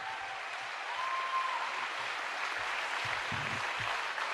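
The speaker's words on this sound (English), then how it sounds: "a big round of applause to our amazing state senator," A seated audience applauds a state senator, a steady broadband wash of clapping held at even loudness throughout, with a faint whistle-like tone early on.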